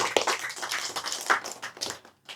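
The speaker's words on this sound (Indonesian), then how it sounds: "Tepuk tangan" An audience claps together at a live religious study gathering on a campus. The applause comes in dense, uneven bursts that rise and fall and fade near the end.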